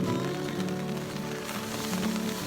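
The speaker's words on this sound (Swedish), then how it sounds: "Men som tur var så satte jag upp presenningen. Nu regnade." Rain pattering steadily on a tarpaulin pitched over a campsite on a motorcycle road trip through Sweden and Norway, a dense, even hiss of drops close overhead without pause.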